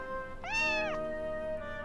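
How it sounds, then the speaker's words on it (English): A single clear cat meow, bright and close, rising then falling over about half a second against a quiet steady background tone. "Oh, it's a cat!"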